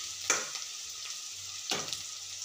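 Onion, curry leaves, cumin and mustard seeds fry in hot oil with a steady close sizzle, broken by two sharper crackling bursts as the pan is stirred; no voices.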